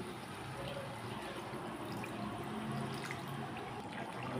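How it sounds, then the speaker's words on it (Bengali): Water poured into a cooking pot of fish-head muri ghonto with Gobindobhog rice and green chillies, a continuous steady splashing and bubbling wash that runs throughout at moderate level, with no talk. "জল দিয়ে দিচ্ছি।"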